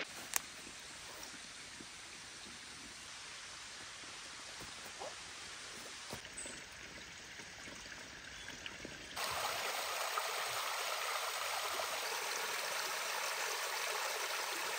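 Water from a stream beside a forest campsite rushes in a steady, broadband wash that runs unbroken throughout and grows slightly louder and brighter partway through.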